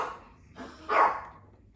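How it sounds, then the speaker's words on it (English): Dogs bark three times, short and somewhat distant, the last bark the loudest, against a quiet room background. "my dogs are getting crazy over there."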